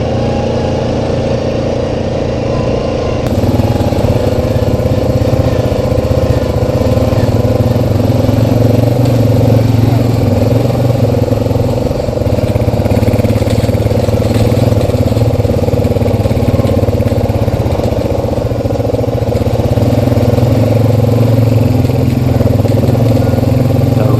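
Steady, loud engine drone from a 2019 Yamaha Kodiak and a 2012 Honda ATV riding through a dusty red-dirt canyon at an ATV park, running continuously close by with slight throttle swells and no talk.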